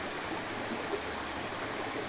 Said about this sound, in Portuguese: Vamos dar uma olhadinha e conhecer essa cachoeira aqui, essa cascata no meio da natureza.